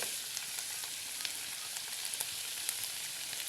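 Fish sizzles steadily in a hot pan for a beefsteak dish, a constant bright frying hiss with scattered small pops and crackles and no talking.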